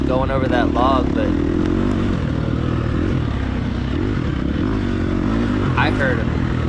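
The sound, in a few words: dirt bike engine revving in video game TORCS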